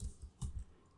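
Soft, quiet keystrokes on a computer keyboard while a password is typed, a few scattered clicks with a brief louder cluster in the middle, no voices.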